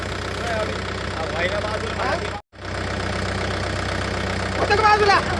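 A tractor engine idling nearby with a steady low mechanical throb and knocking rumble, a brief cutout in the middle, and people talking and arguing over it.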